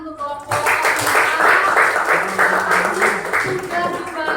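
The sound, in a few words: applause for a presenting group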